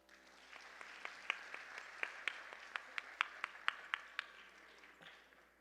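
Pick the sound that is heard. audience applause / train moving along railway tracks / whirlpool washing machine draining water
audience applause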